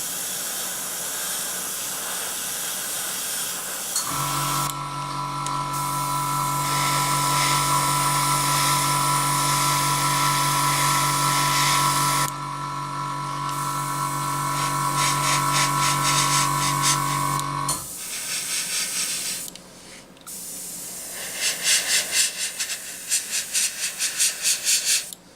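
An airbrush sprays yellow paint onto an Eduard Bf 109G-2 scale model, giving a steady hiss with a whining compressor tone for long stretches, broken by short pauses and bursts of spraying, with no talk.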